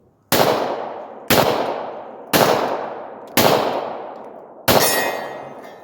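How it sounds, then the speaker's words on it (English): Glock 22 .40 caliber pistol fired one-handed at 60 feet, five loud, sharp shots about one second apart, each with a ringing decay, with no talking. "Now I am shooting at 60 feet."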